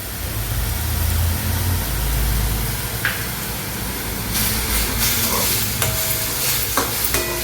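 Fenugreek leaves sauté in oil over a high flame with a steady, loud sizzle and the scrape of stirring throughout, with a few sharper clinks near the end.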